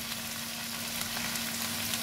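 Ivy gourd pieces fry in hot oil in a pan for a posto dish, giving a steady, even sizzle with faint crackles and no voices.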